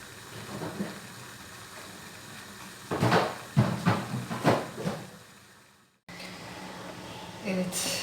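Refrigerator or cupboard door in a home kitchen, with several knocking thumps and rattles close by, followed by a brief silence and then a low hum.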